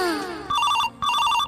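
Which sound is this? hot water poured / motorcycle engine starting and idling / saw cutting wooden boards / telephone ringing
telephone ringing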